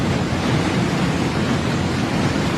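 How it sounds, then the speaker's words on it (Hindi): The swollen Beas river in flood in Manali, a loud, dense, constant roar of rushing water that fills the whole clip without a break, no voices. "ब्यास नदी के उफान में छुपे खतरे को महसूस कीजिए।"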